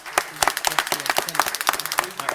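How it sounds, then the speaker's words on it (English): A small group clapping at a monthly board meeting, quick uneven claps from a few people close by, with a voice murmuring underneath. "one more round of applause for everyone"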